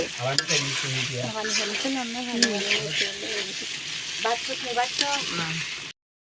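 Meat sizzles as it is sautéed over a clay stove at night, with scraping stirs and a steady frying hiss running beneath people talking nearby.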